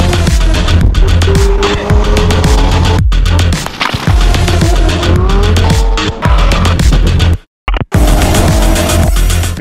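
Race cars roar past with revving engines and screeching tires, loud and continuous, with a brief dropout near the end before the engine noise resumes.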